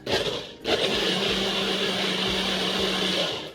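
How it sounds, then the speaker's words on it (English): A blender runs steadily, blending a dairy-free chili sauce for a potato bowl, a loud continuous motor whir with a short dip near the start, then steady until it winds down at the end; no talking. "So I'm gonna blend this a little bit more"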